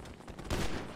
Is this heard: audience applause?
no